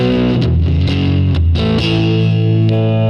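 A 1983 Gibson Les Paul Challenger III electric guitar with three single-coil pickups played through distortion, with sustained chords and short picked notes, loud and close, no talking over it.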